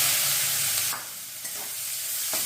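Chopped onion frying in hot oil in a pan while cooking a fish curry (aar fish kalia), a steady loud sizzle that drops slightly after the first second and continues with occasional stirring scrapes.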